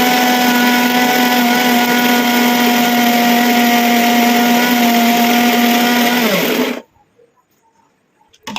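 A mixer grinder grinds natural hair dye ingredients into a paste. Its motor makes a loud, steady whine with a strong hum for several seconds, then winds down and cuts out into quiet.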